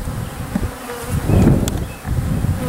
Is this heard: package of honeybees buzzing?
yes